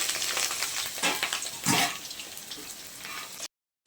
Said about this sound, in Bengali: তেল গরম হয়ে গেছে আলুটা ভেজে নিচ্ছি